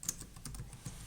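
Quick, light tapping on a computer keyboard, a short burst of a few close keystrokes in a quiet room.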